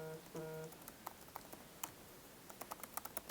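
Light, quick keystrokes on a computer keyboard tap out an email address in an irregular run of soft clicks, close and quiet, with a faint tonal chime near the start and no talking.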